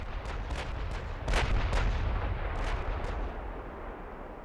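Battleships in a naval battle game fire their guns in a run of deep booming shots that roll into a low continuous rumble, several blasts layered and overlapping, heavy and distant.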